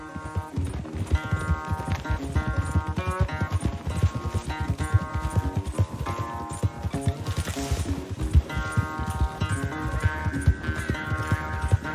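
Horse galloping hard in a race in Red Dead Redemption 2, rapid steady hoofbeats close by under a layer of game music, with no talk.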